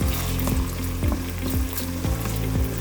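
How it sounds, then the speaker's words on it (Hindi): Onions fry lightly in hot oil in a pan, giving a steady, close sizzle with a few soft stirring knocks at regular intervals, and no one speaks. "इसमें डालेंगे हम ये प्याज। इसको हल्का सा हमें गर्म करना है, बिल्कुल ब्राउन नहीं करना है"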